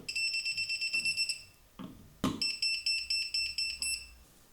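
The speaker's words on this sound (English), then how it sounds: "It will also beep and blink at different speeds depending how close it is to a live wire." A handheld non-contact voltage tester beeps rapidly near a live wire, with a fast train of about fifteen high electronic pulses that briefly stop and then resume at a similar quick rate, close and clear, with a sharp click in the pause.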